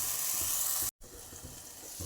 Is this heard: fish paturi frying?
yes